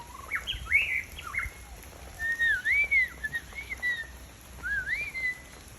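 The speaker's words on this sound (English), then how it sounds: "Hey, pretty bird." A bird calls in the jungle after rain, giving clear whistled chirps and rising, slurred notes in short bursts over a faint background hiss.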